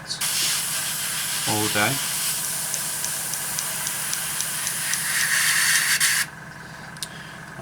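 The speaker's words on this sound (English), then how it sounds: "I just wish this compressor would just shut up for 5 minutes" An airbrush air compressor runs close by with a steady, loud hiss that cuts off near the end, with a voice speaking briefly over it.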